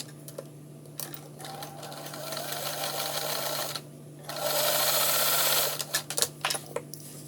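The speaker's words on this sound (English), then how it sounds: "taking that raw edge into that seam line, and we're going to sew that up" A sewing machine stitches up a pant hem seam nearby with a steady mechanical whir, running in two bursts separated by a brief pause, with soft handling clicks at the start and end.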